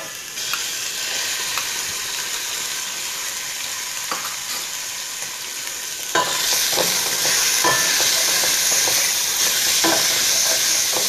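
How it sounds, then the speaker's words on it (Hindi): Chicken pieces frying in oil in a pot for corn soup, a steady close sizzle that grows louder and denser midway, broken by utensil scrapes and taps as the meat is stirred, with no voices. "चिकन को वाइट होने तक इसमें ऑयल में भून लेना है।"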